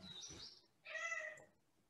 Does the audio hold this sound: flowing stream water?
no